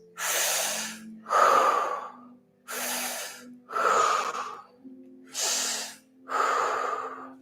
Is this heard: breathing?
yes